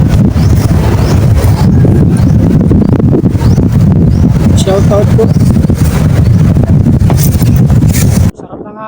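Strong wind gusting outdoors on an overcast day in La Trinidad, Benguet, roaring steadily against the microphone with someone talking loudly over it throughout, cutting off abruptly near the end.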